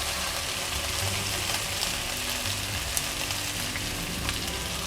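Finely chopped onions sizzle steadily in hot oil for an Indian-style achari aloo dish, a continuous even hiss with no talking.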